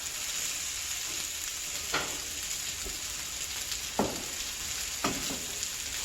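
Portabella mushrooms fry in a pan with a continuous bright sizzle, close and steady, broken by a few sharp clicks and scrapes of a utensil; no voices.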